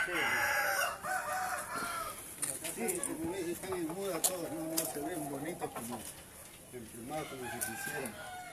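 Fighting roosters bred for the blade crow at a breeding yard, drawn-out calls rising and falling a few at a time with clucking, moderately distant under a man's speech.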